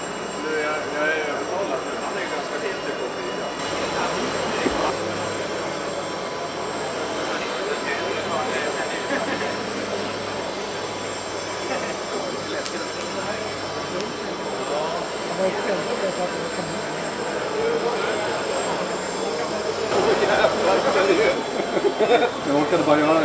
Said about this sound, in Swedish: En helikopter. Det ser ut som en Hurricane 200 hybrid.